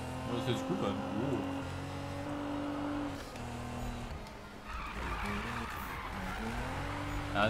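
A car drifts with the handbrake in the Need for Speed video game, its tires squealing over a droning engine that shifts pitch through the slide.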